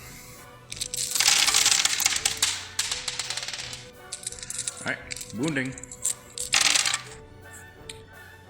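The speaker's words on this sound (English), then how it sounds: "So immediately, a handful of dice gets thrown at Gloth." A handful of dice clatters onto a tabletop during a Warhammer Death Guard vs Orkz game, several bursts of rattling and tumbling over a few seconds, with people talking around it.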